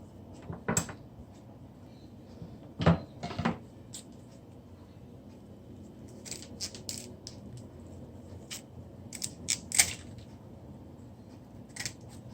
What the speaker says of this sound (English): And they're going to cut the thyme.